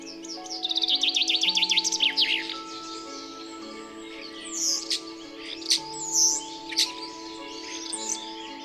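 Birds sing loudly and close by in a forest in spring, with a fast rising trill at first and then scattered chirps and whistles over a soft, sustained musical background.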